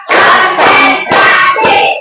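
Four loud hand claps in a steady sequence, close by, each a sharp slap with a brief ring, no voices.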